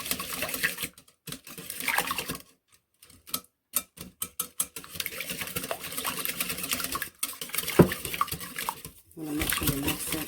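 A batter of vanilla extract and cake mix gets whisked by hand in a bowl, fast rapid clicking strokes tapping against the side, broken by short pauses, fairly close and steady.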